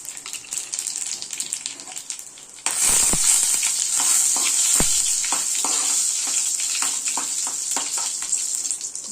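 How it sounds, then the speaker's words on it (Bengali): Dried red chillies, bay leaves and black cumin hit hot oil in a kadai and burst into a loud, steady sizzle that fills the rest of the stretch, with a few sharp spatters and crackles on top. "এবার আমি এখানে কড়াই দিয়েছি একটু তেল, আর দেবো ফোড়ন হিসাবে 2টো শুকনো লঙ্কা, 2টো তেজপাতা আর কালো জিরে।"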